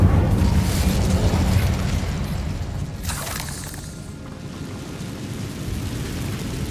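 A fire spell blast cast in Hogwarts Legacy, a loud rumbling burst that starts strong and slowly fades into a low, crackling roar lasting several seconds.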